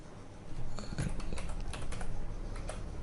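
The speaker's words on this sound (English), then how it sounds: "just type in Unisem here" Quick keystrokes on a computer keyboard, a light irregular run of clicks at close range over a faint room hiss, with no talking.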